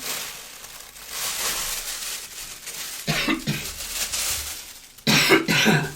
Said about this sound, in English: Coughing now.